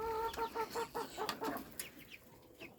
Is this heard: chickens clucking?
yes